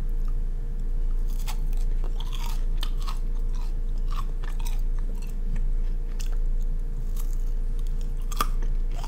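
Someone chews a crunchy African chalk snack mixed with crushed peanuts and seeds, giving close, repeated sharp crunches and bites at an irregular rhythm over a steady low hum.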